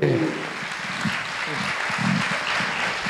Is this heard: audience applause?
yes